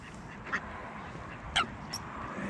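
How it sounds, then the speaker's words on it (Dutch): An angry goose in a video game honks in a few short, sharp bursts over a busy background of game noise and murmur. "Wow, die gans is boos op die één."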